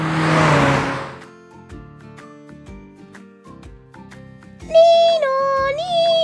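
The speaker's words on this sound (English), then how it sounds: "Speedy little green car whooshes round the town." A cartoon-style sound effect for a speedy little green car: a rising engine whirr over musical backing, with a bright swooping tone near the end.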